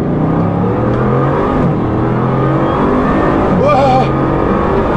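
A Bugatti Chiron accelerating hard on a motorway, its engine note rising in loud sweeping revs with a gear change partway through, heard from inside the car while someone talks over it.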